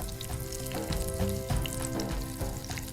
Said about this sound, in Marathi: हे लालसर रंग येईपर्यंत छान आपल्याला खरपूस भाजून घ्यायचे